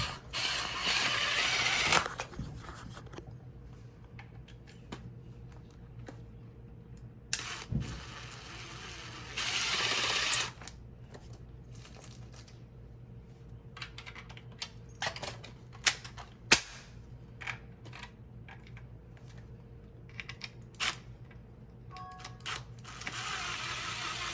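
Screws being driven in during a HavenLock concrete install: short bursts of power-driver whirring and ratcheting clicks spread across a quiet stretch, near and fairly faint, with no talking.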